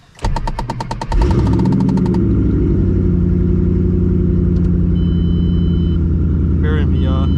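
A 2007 Ford Mustang GT cold-starting in neutral: a sharp crank and catch, then a loud, steady, rumbling V8 idle that holds evenly throughout, with brief chimes early on and a faint clicking near the end.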